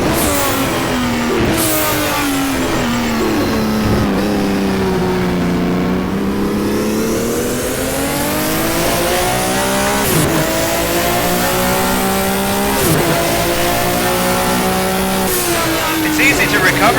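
BMW M1 race car in the rFactor racing game, a loud continuous engine note sweeping up and down through gear changes with sharp shift breaks and tire squeal, while a driver talks over it.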